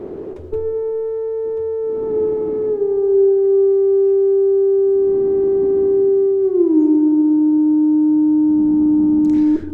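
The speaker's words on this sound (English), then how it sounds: "we also have a real spring reverb built into this thing" A Therevox ET-4.2 synthesizer's steady tone steps down in pitch twice, washed in a metallic, splashy built-in spring reverb tail with noise-oscillator bursts swelling underneath.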